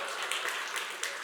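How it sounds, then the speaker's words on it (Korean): A church congregation claps together in short, brisk applause, a dense wash of hand claps heard from within the room with no talking over it. "우리 박수 한번."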